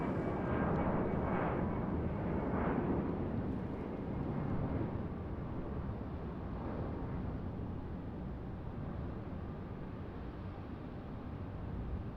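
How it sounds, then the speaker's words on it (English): An Airbus A319 airliner bound for Philadelphia passes at Raleigh-Durham airport with a broad, rumbling jet roar, loudest at first and then slowly easing off as a steady wash with no voices. "A319 headed back to Philadelphia."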